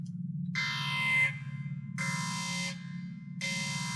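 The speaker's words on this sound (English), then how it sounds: "That's the alarm." Repeating electronic alarm tone in a sci-fi drama, sounding in three bursts over a constant low hum, each burst a bright buzzing blare that cuts off sharply.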